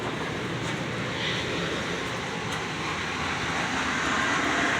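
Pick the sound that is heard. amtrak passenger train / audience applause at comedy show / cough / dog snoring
amtrak passenger train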